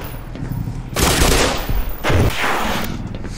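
Loud close bursts of gunfire in Black Mesa, two heavy volleys about a second apart with rattling mechanical noise between them and no speech.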